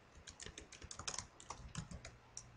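Quick, uneven keystrokes clatter on a computer keyboard while entering spreadsheet labels, a close, quiet burst of clicks with no talking.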